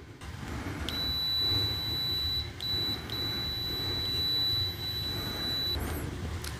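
A TOOLTOP ET13S multimeter in continuity mode, tested with Probe Masters probes, sounds sharp high-pitched beeps: a short chirp, then a long sustained tone, a brief blip and another long tone, over quiet background noise.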